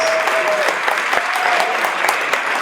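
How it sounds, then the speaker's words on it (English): A meeting audience gives a short, even round of applause, a dense patter of clapping hands that fills the room briefly and then carries on steadily without talk. "Let's give her a big round of applause."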